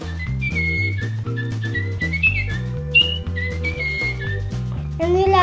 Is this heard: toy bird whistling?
yes